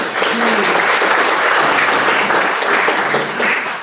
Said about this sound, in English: big round of applause for Julie